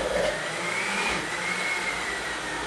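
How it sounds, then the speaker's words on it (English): A blender runs steadily on green seasoning, its motor a loud, continuous whirring roar that holds for the whole stretch with no voices. "Right now, my blender seems very angry."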